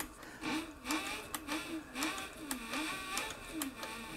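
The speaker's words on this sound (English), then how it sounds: "So I just give it a little start like that." A leather sewing machine for saddlery stitches at a steady rhythm, with regular mechanical clacks and a cyclic whir about twice per second, close and fairly quiet, with no voices.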